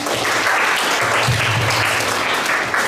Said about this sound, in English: when we are giving a hand of loud applause, let's do it cheerfully